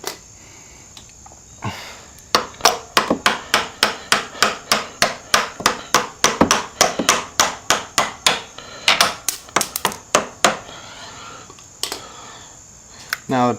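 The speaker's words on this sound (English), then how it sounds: "Should have a hammer." Hammer tapping out a footpeg pin on a motorcycle footpeg, a long run of sharp metallic knocks, close and loud, struck in a steady rhythm about twice a second before trailing off.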